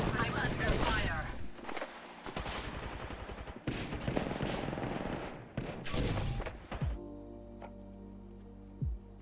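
Apex Legends firefight with repeated gunfire, sharp shots and rattling bursts at close range over several seconds, mixed with other game sounds and a character's voice lines, ending in quieter ticking tones.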